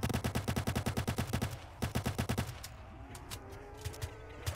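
Rapid automatic gunfire in ROBLOX rattles out in loud, evenly spaced bursts, pauses briefly, resumes, then tapers into scattered single shots over quieter game ambience, with no talking.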